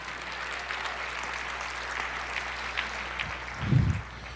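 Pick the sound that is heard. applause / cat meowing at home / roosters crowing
applause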